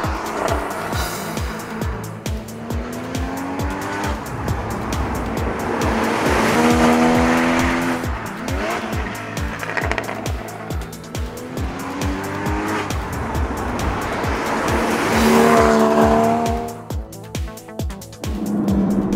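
A Porsche Cayman GTS sports car is driven hard on the road, its engine loud and close as it climbs through revs and shifts gears, with tyres squealing on several pushes.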